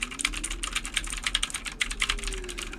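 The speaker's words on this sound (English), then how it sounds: "Listen to me type." Rapid, steady clacking comes from a Red Dragon computer keyboard typed on at close range, with fast, even keystrokes over a low hum.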